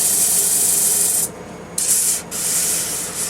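Steady abrasive rubbing of sandpaper across a wooden platter, loud and close, with brief pauses as the sander lifts off before resuming.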